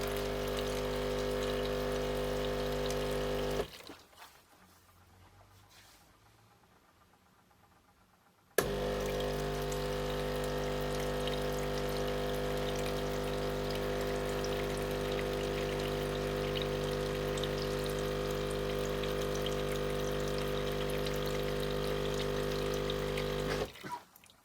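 A Sage Breville Barista Pro pumps descaling water out of its group head, a steady loud pump drone with splashing flow that stops abruptly for about five seconds, then resumes and runs steadily before cutting off near the end.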